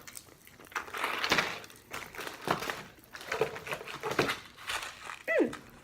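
Kit Kat wrapper torn open and crinkled close by, a run of crackling plastic rustles in irregular bursts with a brief squeaky tear near the end.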